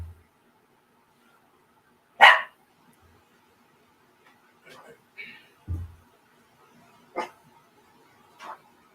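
Small dogs, chihuahuas, bark in short separate yips scattered across a quiet background, a handful of sharp barks at irregular intervals, fairly close and loud against near silence.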